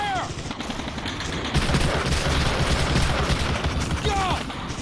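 Dense rapid gunfire from machine guns and rifles fills a chaotic battle in the video game Medal of Honor: Allied Assault. The shooting is continuous and layered, near and far, with soldiers shouting underneath.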